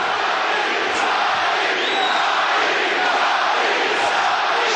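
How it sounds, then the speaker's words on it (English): An arena crowd at a world championship kickboxing bout in Montreal roars with sustained excitement, a loud, continuous wash of cheering and shouting with brief higher yells rising out of it. "You will hear this kind of crowd of excitement all night tonight"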